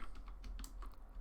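Keystrokes on a computer keyboard as a Linux terminal command is entered on a Raspberry Pi, a quick uneven run of close, crisp clicks over a low steady hum.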